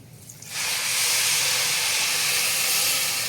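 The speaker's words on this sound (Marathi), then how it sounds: "आता मी यात पाणी घालून घेणार आहे" A sudden loud hiss erupts as about one and a half glasses of water hit a hot pan of spiced peas rice, then holds as a steady, sizzling roar of steam until the end.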